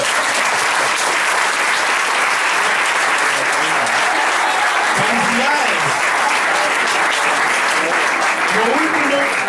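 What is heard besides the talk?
audience applause for a 90-year-old woman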